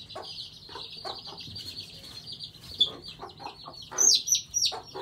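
Close, soft clucking from a Silkie hen in short irregular bursts, over a constant high chirping of chicks in the background.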